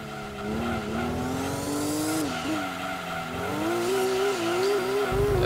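A race car engine in Gran Turismo 2 drones loudly and bounces against the rev limiter in a wavering, stuttering pitch while the wheels spin, with tire squeal layered over the steady engine tone.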